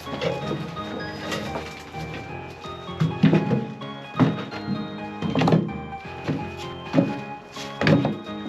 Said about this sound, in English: It's time to get this guy filled up with some split firewood from out back.